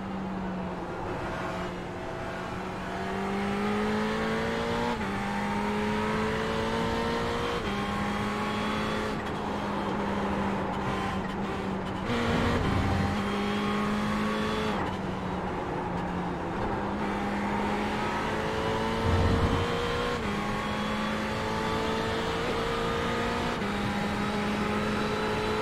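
Ferrari 488 GT3 race car engine in iRacing at Watkins Glen, a steady loud drone rising in pitch through each gear then dropping at the shifts, with a couple of brief thumps, continuous and close throughout.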